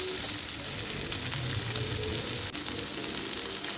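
Chopped tomatoes hit a pan of frying chilli, garlic and ginger, a steady loud sizzle and crackle of hot oil with a brief stirring clatter midway.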